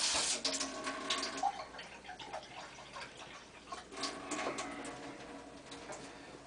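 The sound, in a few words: water poured into cooked grape juice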